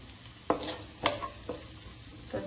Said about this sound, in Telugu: అల్లం వెల్లుల్లి ఆనియన్ ఇలా ఫ్రై చేసుకోవాలి.